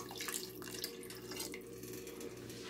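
About half a litre of water pours into a pot of Iraqi-style spinach soup, a close, continuous trickling splash with a few brief clinks and no talk.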